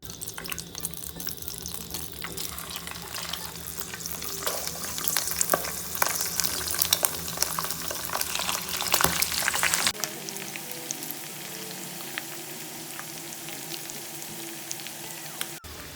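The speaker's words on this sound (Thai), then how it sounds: "แล้วผมจะไปทอดอีกนะครับ เพิ่มความกรอบหอมก่อนที่เราจะคั่วเป็นขั้นตอนต่อไป" Boiled pork ribs, already softened, deep frying in hot oil for a crisp finish, a dense, steady crackling sizzle throughout, with louder bubbling bursts in the first ten seconds before it settles to a thinner, quieter fry.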